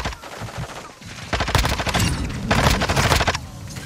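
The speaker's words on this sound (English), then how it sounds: "So many grenades." Grenade blasts and gunfire in Modern Warfare II, loud clustered bursts and booms rolling in two heavy waves, close and chaotic, with no talk.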